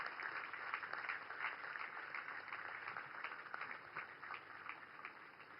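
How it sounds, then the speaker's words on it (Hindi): A large audience applauds to welcome the Indian Navy ships INS Surat, INS Nilgiri and INS Vaghsheer, making a steady, dense wash of clapping that sounds faint and distant throughout. "तालियां फुल वॉल्यूम पे बजाइए।"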